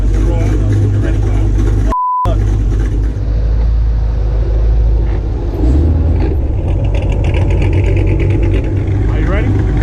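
A modified, cammed Dodge Hellcat idles with a loud, lumpy, close rumble and a brief dropout early on. People talk over the engine.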